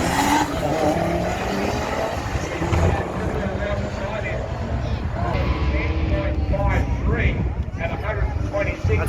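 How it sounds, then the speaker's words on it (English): A car does a burnout at a drag race strip, its engine roaring continuously with tire squeal and rasping skid noise, loud and close throughout, while a commentator talks over it. "That's a better burnout, Tim."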